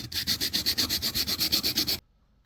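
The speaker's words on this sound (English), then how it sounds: "just been doing some sanding on the handle" Rhythmic scratchy sandpaper strokes on a metal handle rub back and forth about a dozen times at an even pace, close up, then stop abruptly.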